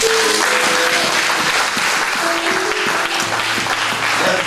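Loud, dense applause from a church congregation acclaiming during a worship service, continuous clapping filling the whole moment with no voices rising above it.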